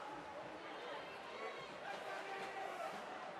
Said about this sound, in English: Very excited crowd on hand here.